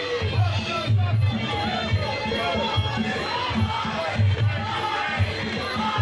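A crowd at an MMA event at Warriors Cup 74 chants a fighter's name, a rhythmic, repeated low chorus pulsing through steady arena hubbub, with a commentator speaking over it.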